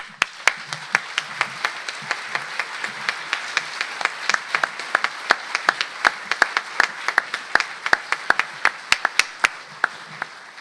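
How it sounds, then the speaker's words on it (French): Audience applause at a European ethics congress, steady, dense clapping from many hands that fills the room for about ten seconds, with sharp individual claps standing out near the front. "aux participants qui souscrivent à cette déclaration de bien vouloir le manifester par un applaudissement"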